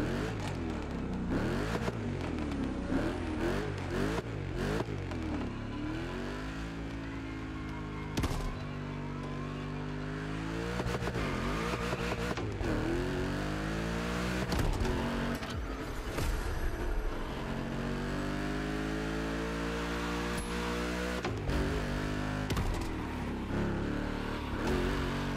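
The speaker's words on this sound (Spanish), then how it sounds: "Escuchen el sonido del motor, me voy a callar para que lo aprecien" A Ford Mustang Dark Horse V8 in the racing game The Crew Motorfest, revving hard through repeated rising gear pulls with sharp crackling pops on the overrun, loud and continuous throughout.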